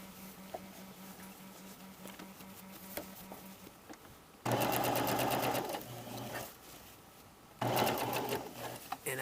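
A sewing machine stitches a patch pocket along a crease in two loud, fast bursts of rapid rattling, separated by quieter pauses with faint handling sounds.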